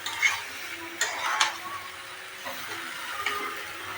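Prawns are stirred and tossed in a frying pan. A soft sizzle lies under intermittent scrapes and light clinks of the spatula against the metal, fairly quiet and close.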